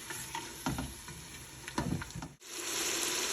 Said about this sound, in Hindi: इसको डालने के बाद आपने इसको 2 से 3 मिनट के लिए गोश्त के साथ ही जो है वो अच्छी तरह से पका लेना है